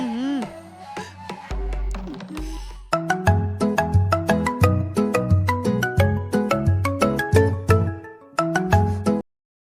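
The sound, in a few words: phone call ringing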